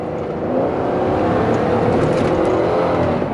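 A 2010 Chrysler Town & Country minivan holds a steady, loud engine drone with rising whir and some road noise as it accelerates through curves, continuous for a few seconds with no talk.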